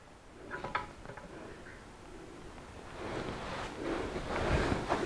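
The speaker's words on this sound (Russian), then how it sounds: "Так, вода пошла." Water trickles slowly into a new marine aquarium, a faint, soft wash of flowing water broken by a few light ticks and splashes.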